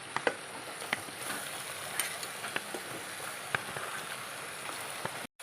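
Chicken pieces rubbed with salt and turmeric go into a pan of sautéed onions and start to sizzle. A steady, fairly quiet fry hiss carries scattered sharp crackles and pops, then cuts off abruptly.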